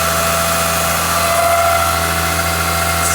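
A Nissan Skyline R34 with a swapped RB26DETT straight-six idles smoothly, a steady, close, even engine hum with a light vibration and no pauses or revving.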